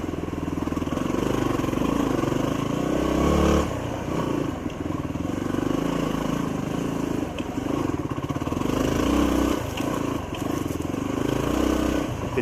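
A motorcycle climbs a dirt hill trail in second gear, its engine droning loud and close with a steady chugging pulse and small throttle swells, joined by scattered clatter from the terrain throughout.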